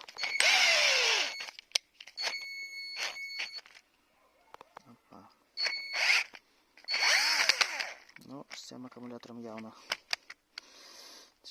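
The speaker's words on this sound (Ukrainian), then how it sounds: "Це вже буде насилування шурупверта, але вже попробуємо." Metabo PowerMaxx 12 cordless drill driver, a 10.8V tool fitted with an oversized 2.7Ah battery, whirs in several short bursts with pauses between them, close and fairly loud, and someone talks in the gaps.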